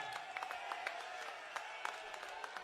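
An audience applauds at a ceremony honouring devotees of Lord Ram in Kurukshetra, held for Chief Minister Manohar Lal; the clapping is soft and steady, with scattered sharper claps standing out.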